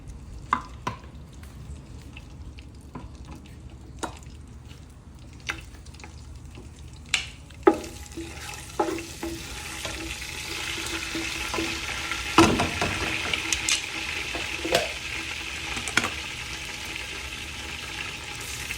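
Bay leaves and turmeric roasting in hot oil, stirred in a pan during biryani preparation, with a soft steady sizzle and occasional sharp clicks and scrapes of a spoon, growing busier and louder in the second half.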